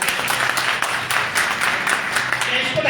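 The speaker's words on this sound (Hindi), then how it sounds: "एक बार ताली बजा दो इसके लिए।" A seminar audience applauds a participant, a dense, steady patter of many hands clapping together throughout, with voices mixed in.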